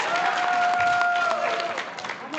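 A crowd at a bodybuilding show fills the room with steady cheering and applause, a dense continuous roar with a whistle or sustained tone running through the first part.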